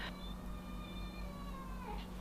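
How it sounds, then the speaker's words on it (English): An indoor house cat lets out a long, drawn-out, wavering meow that falls in pitch over about two seconds, faint and alone over a steady low background hum. "I'm sorry, I have talkative cats."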